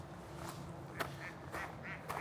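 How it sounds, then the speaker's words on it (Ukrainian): Several short, nasal duck quacks sound a little way off by a mountain river, spaced irregularly over a steady rushing-water background. "А вон де всі качки."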